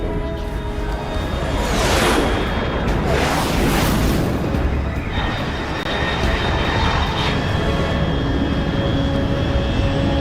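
Unidentified fast aircraft in Metal Gear Solid Delta, a loud sustained roaring jet rush with sweeping doppler-like swells as it passes overhead, then a steady engine drone fading slightly.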